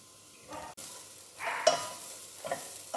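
Masala being stirred through boiling noodles in a pan, a few scraping strokes of the spoon over a soft bubbling simmer, fairly quiet and close with no voices.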